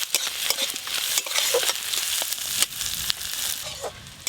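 Kashmiri chilli and green chillies are fried in a pan over onion, ginger and garlic. A close, crackling sizzle is broken up by repeated scraping stirs, with no talking.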